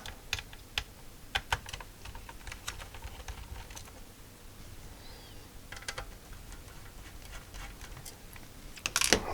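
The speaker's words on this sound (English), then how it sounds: "So now we're going to take off all of these little screws." Small screws being removed from the case of an Atari 65XE computer during restoration, heard as a run of short, close clicks and taps with irregular spacing and a slightly louder clatter at the end, no talking.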